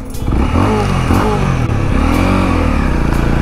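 A Honda CL 250 Scrambler motorcycle engine revs loud and close, rising and falling in repeated throttle blips over a steady mechanical rumble, with no talk over it.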